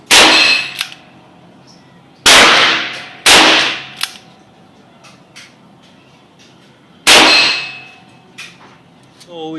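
.38 Special revolver loaded with 158 grain Lee semi-wadcutter bullets fires four loud, sharp shots at a range with uneven gaps between them, each crack followed by a short ringing decay, with no talking.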